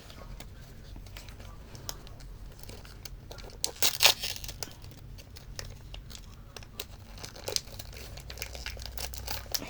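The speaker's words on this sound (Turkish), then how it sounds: "Dördüncü kutumuzu açıyoruz." A box of trading cards is opened close up, with soft crinkling and rustling of the packaging, scattered clicks and taps, and a few sharper crackles along the way.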